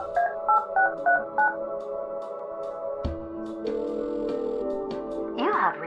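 A phone booth telephone in the video game Kathy Rain 2 is dialed, five crisp keypad tones in quick succession, followed by a line click and a steady hum with a faint voice-like sound at the end.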